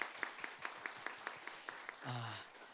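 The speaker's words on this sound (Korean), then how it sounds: "우리 찬양을 받으시는 하나님께 우리 영광의 박수 올리도록 하겠습니다." Church congregation applauding during a Sunday service, a run of sharp, evenly spaced claps that build into a brief burst of fuller clapping near the end, fairly faint overall.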